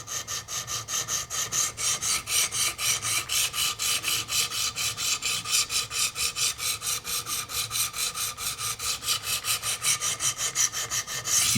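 Knife-sharpening strokes of a Benchmade 730 Ares blade on Wicked Edge 200-grit stones, a rapid, steady rasping rhythm of close, even scrapes running continuously without speech.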